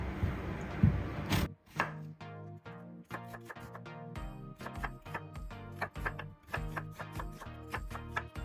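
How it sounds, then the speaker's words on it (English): Steady knife chopping an onion on a cutting board, quick rhythmic thuds close by with a few brief pauses, no talking. "next, I'll be chopping the onion"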